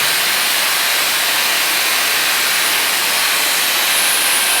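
Shark Flexstyle hair styler blowing a strong, steady close-up rush of air while curling hair, an unbroken loud hiss throughout.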